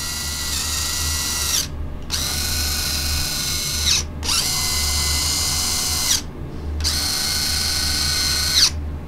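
An upgraded PZ 514 mechanism cycles through four times, each run a steady, close mechanical whir of about a second and a half separated by brief pauses, with a low hum underneath.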